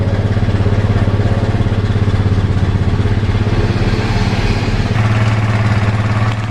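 Motorcycle engine idling with its battery disconnected, running on a new regulator rectifier; a loud, close, steady rhythmic putter with slight clatter that shifts pitch briefly near the end.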